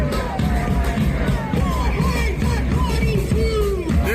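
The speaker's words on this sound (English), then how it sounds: "Large crowd coming up to the Prime Minister's office now." A large protest crowd gathers outside the Prime Minister's office on Wellington Street, with dense outdoor babble, scattered shouts and whoops held at a steady loud level.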